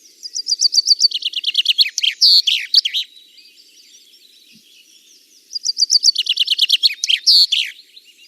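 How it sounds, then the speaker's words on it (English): A chaffinch sings two bright, clear phrases, each a rapid descending series of chirps ending in a flourish, separated by a few seconds of quiet. "And so that is the chaffinch."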